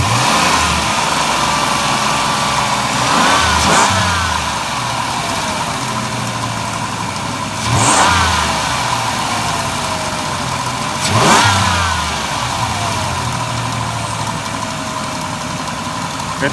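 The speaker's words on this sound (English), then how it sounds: "Okay, I'm gonna just rev the engine," A Dodge Caravan's engine idles steadily up close, then revs three times in sharp bursts before settling back to idle each time.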